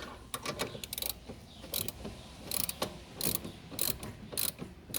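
A ratchet wrench tightens the sway bar link nut on a BMW E39 528i, giving a close, steady run of sharp clicking bursts in repeated strokes, with no talk.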